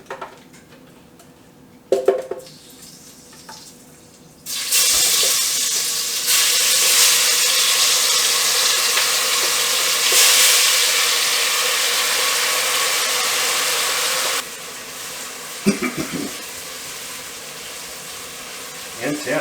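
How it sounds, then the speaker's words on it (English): Chili garlic mixture hits medium-heat oil with a sudden loud, broadband sizzle that holds steady for about ten seconds, then settles into a quieter, continuous frying hiss with a few faint clinks. "Let's go ahead and add it to this medium heat oil."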